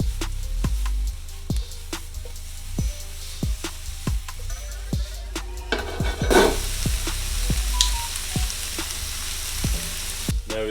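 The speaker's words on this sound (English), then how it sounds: "Now give that a good toss right after you added the honey." Brussels sprouts sizzle steadily in a hot pan with honey while a utensil scrapes and tosses them in a regular rhythm of sharp, close clacks, with a brighter hiss burst midway.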